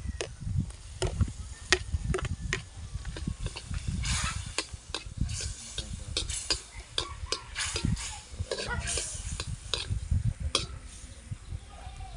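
A knife chops on a cutting board while preparing ginger for eel adobo in coconut milk, with a series of sharp, irregular, close knocks and faint background sounds.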